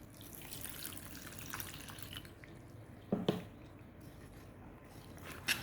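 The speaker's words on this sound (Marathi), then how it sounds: "आता यामध्ये मी पाणी घालून घेते" Water trickles into a bowl of flour for malpua batter with faint splashes and a couple of brief louder drips, set against a steady low background hum.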